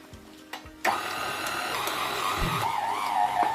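A stand mixer kneads raisin bread dough at very slow speed, its steady motor whir starting abruptly after a brief quiet lead-in and running continuously and fairly loud, with a faint knock near the end.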